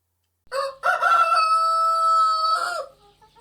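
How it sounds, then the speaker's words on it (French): A rooster crows once, loud and close, in a long drawn-out cock-a-doodle-doo that holds steady before dropping off, with silence around it. "un coq chanta."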